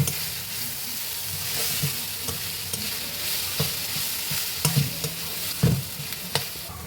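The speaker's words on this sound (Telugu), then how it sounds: "ఒక స్పూన్ అల్లం వెల్లుల్లి పేస్ట్ తీసుకున్నాను నేను. ఇది కూడా కొంచెం వేగాలి." Ginger garlic paste frying and being stirred in hot oil, a steady broadband sizzle with scattered clicks and spoon scrapes against the pan throughout, no voices.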